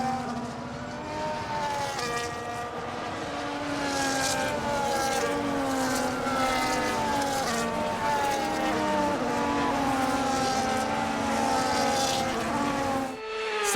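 Race cars on the formation lap of the Belgian Grand Prix in the F1 25 video game, their engines droning steadily with overlapping rising and falling pitches the whole way through, loud and continuous.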